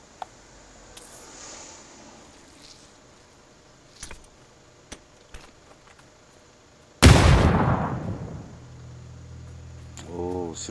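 A grenade explosion in the console game PUBG bursts loudly and rumbles on for a few seconds, preceded by scattered faint gunshots and clicks, with a brief rattling sound near the end.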